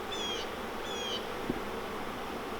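Honey bees at a hive frame during an April inspection, a faint soft buzz with two short higher whining passes near the start and a small knock midway.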